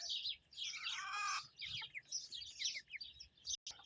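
Desi village chickens clucking and chirping close by, a run of bright repeated calls with a louder burst near the start and scattered softer peeps throughout, over a faint low outdoor background.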